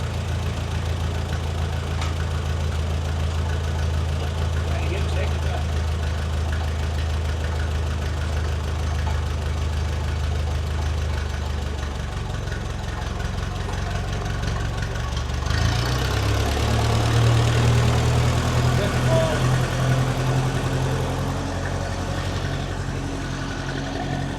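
An old Ferguson TE20 tractor engine idling steadily with a low knocking rumble while its clutch is tried, the tone shifting and roughening partway through.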